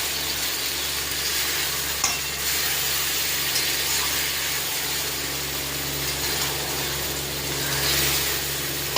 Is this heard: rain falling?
no